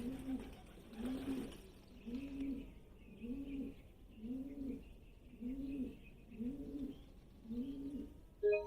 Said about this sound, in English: It seriously sounds like that bird's hacking up shit right now.